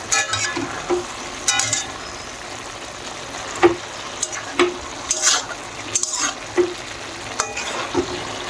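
Food frying and sizzling in a pan in a home kitchen, with a steady bed of crackle and intermittent louder stirring scrapes and clatters of a utensil, close by and with no talking.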